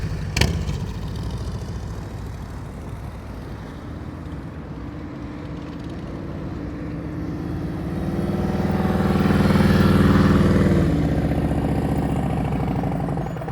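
Motorcycle ridden at slow speed during advanced slow-speed practice in North Carolina: a steady, close low engine putter, a sharp click at the start, then the note swells with throttle before easing back.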